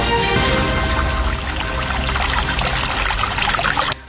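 Water pours and splashes steadily from a restored household tap supply in Mandaluyong or Pasig after a week-long service interruption, a loud continuous gushing rush with no voices, cutting off abruptly at the end.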